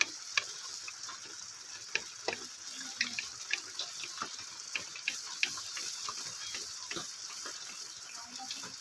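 Flour pitha batter made with yeast frying in a pan over a medium gas flame, with oil sprinkled over the top; a steady close sizzle and hiss with scattered sharp pops and crackles, no voices.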